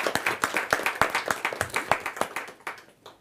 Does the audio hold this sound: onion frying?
no